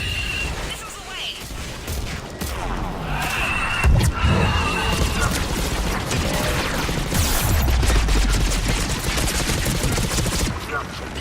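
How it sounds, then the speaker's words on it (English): Missiles launch and explode in Mass Effect 3 combat, a dense barrage of rapid blasts and booms that builds and stays loud, with voices speaking over the action. "Missiles away."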